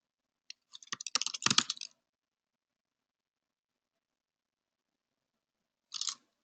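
Burst of computer keyboard typing, a rapid run of crisp key clicks over about a second, then silence and one short final keystroke cluster, close and fairly faint with no talk.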